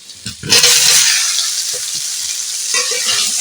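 Ash gourd pieces tipped into a pan of potatoes frying with turmeric, setting off a loud, steady hiss of sizzling oil that swells after a brief clatter and stays strong, with stirring scrapes mixed in.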